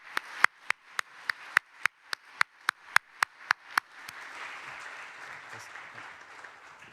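Attendees applaud panelists at the close of a panel session. About fourteen loud, evenly spaced single claps come first, then a softer, diffuse wash of clapping and murmur continues.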